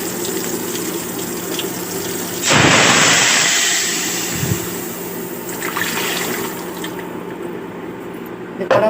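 Water is poured into tomato chutney cooking in a pan with oil, mustard seeds and curry leaves, making a sudden loud gushing splash that eases into a steadier trickle over a background hum, with a voice talking nearby.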